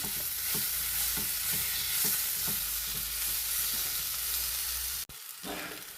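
Lemon pickle with dates, salt and chili being stirred in a pan, a steady sizzle with rhythmic scraping strokes of the spoon, close and continuous, briefly cutting out near the end.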